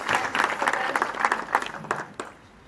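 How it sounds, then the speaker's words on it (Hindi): An audience at a national meeting held in Vrindavan claps together in a burst of applause, dense at first and then thinning into scattered claps as it fades over a few seconds. "आपका एक बार तालियों से अभिनंदन होना चाहिए कन्या बहन जी का।"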